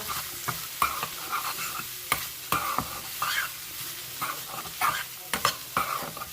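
Chicken seasoned with white pepper cooks in a pan, a soft steady sizzle broken by repeated scraping and stirring strokes of a spatula, fairly close and moderately quiet, with no voices.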